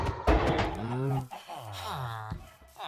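A chicken in the game Minecraft clucks and squawks loudly up close in a few short bursts, with a little speech-like sound mixed in.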